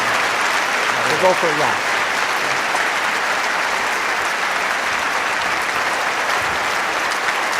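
Sustained applause from a large auditorium crowd after a public discussion with Richard Dawkins and Lawrence Krauss, steady and loud throughout, with a brief spoken voice near the start.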